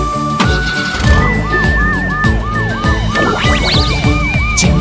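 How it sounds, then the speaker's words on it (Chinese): A cartoon police car's siren wails in repeated rising-and-falling sweeps, loud and close, layered over upbeat children's song music with a bright synth tone throughout. "超雷达警车"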